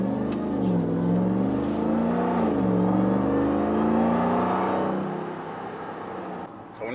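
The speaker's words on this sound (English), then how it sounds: "Those SLP Resonators really woke up this truck." A RAM TRX pickup with SLP resonators and a muffler-delete exhaust revs hard and close, its deep engine note climbing and dipping through two throttle blips before settling to a low idle rumble.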